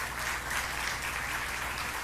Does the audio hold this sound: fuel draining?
no